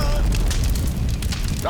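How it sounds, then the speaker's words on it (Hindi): A loud, deep rumbling boom fills the whole clip, dense low-end roar with crackling debris like a nearby explosion, voices faintly mixed beneath. "धमाके की आवाज"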